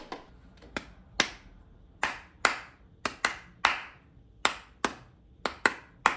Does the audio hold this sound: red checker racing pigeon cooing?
no